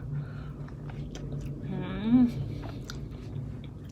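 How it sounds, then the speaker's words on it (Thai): Close, soft chewing and biting as large strawberries are eaten, with a person's voice briefly speaking over the quiet mouth sounds. "เดี๋ยวมากินสตรอเบอรี่นะคะ"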